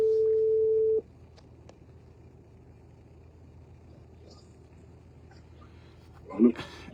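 A telephone call being placed: a steady dial tone sounds for about a second, then stops, leaving a quiet line with faint clicks and a brief burst of sound near the end.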